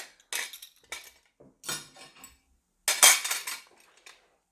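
Silverware clinks and rattles against a plate as a waiter trainee arranges a table setting, in several sharp, close bursts separated by short pauses.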